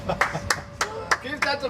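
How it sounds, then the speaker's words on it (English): A few people clap a handful of sharp, spaced claps nearby at a home flight simulator session while voices talk over them. "Give that applause, guys."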